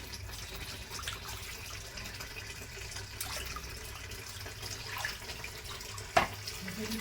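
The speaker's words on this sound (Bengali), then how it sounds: "তো মাছটা ধুয়ে নিচ্ছি" A katla fish being rinsed under a running kitchen tap. Water streams steadily into a sink throughout, with faint splashes and handling noises and one brief clatter near the end.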